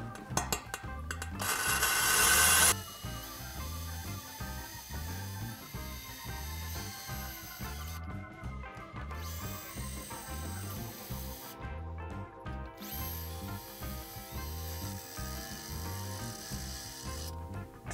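Drilling a hole in porcelain stoneware tile with a Bosch bit, giving a steady, loud, continuous grinding with a rhythmic low chatter throughout, a harsh bright burst near the start and brief drops in the high grind along the way.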